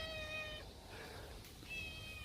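A domestic cat meows close by in two drawn-out, faint calls separated by a short pause, with no talk.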